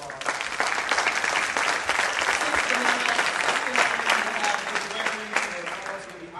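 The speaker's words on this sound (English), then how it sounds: "Give them a round of applause" A dense, steady round of audience applause fills a conference room after a panel discussion at a financial empowerment forum, sustained and fairly loud throughout with no pauses.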